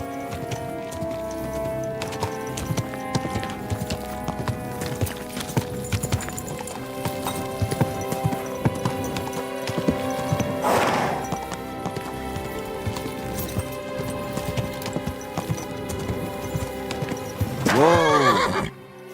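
Horse hooves clip-clop steadily over layered background music in Kingdom Come: Deliverance II, with a loud neigh near the middle and another whinny toward the end.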